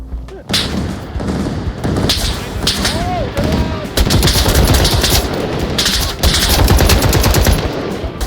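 Heavy gunshots in a realistic VR shooter, loud sustained automatic bursts and single cracks packed close together, nearly continuous after a brief start, with occasional voices under the firing.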